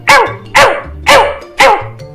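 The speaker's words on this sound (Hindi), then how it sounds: "खुशी से भौंकने लगी और उसके पास गई" A dog barks four times in an even rhythm, loud and close, with short pauses between each bark and no talking.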